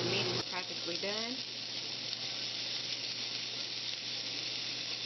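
Chicken meat fries in a pan with a steady, even sizzle and hiss throughout; a voice speaks briefly at the start.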